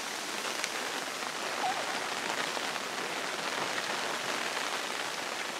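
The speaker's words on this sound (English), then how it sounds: "today is an official rain day in Alaska" Steady rain in Alaska patters continuously on a makeshift tarp overhead, a dense, even hiss of drops with no voices.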